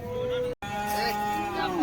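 An HF (Holstein Friesian) cow in a cowshed gives one long, loud, close moo with a drawn-out tonal drone, a momentary break partway through, and the call sliding downward at the end.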